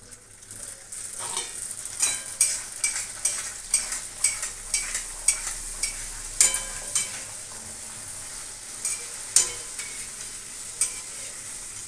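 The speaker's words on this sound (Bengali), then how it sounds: "ভাজি লুচি, তোমাদের দাদা ভাই আজকেও লুচি খাবে।" Luchi puffed flatbread deep-frying in oil, a continuous bubbling sizzle punctuated by regular rhythmic ladle taps and scrapes about every half second, close and steady, no talking.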